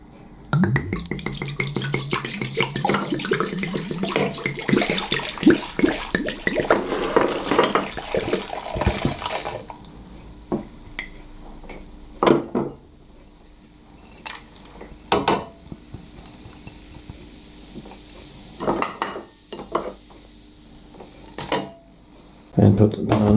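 Mulled wine ingredients, including spices like cinnamon, tumble and splash into a large pan, a busy run of clinks, pouring and clatter, followed by sparse single knocks of pots and utensils in a quiet kitchen.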